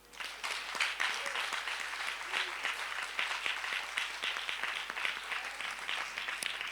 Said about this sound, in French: Ok, on acclame le Seigneur.